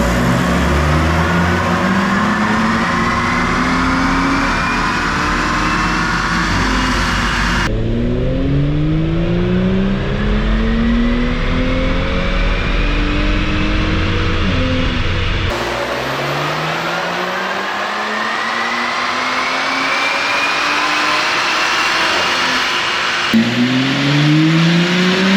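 An Audi B9 S4 on Stage 1 tune and 93 octane making repeated dyno pulls: the engine climbs loudly through the revs again and again, shifting up through the gears with a rising whine in each run.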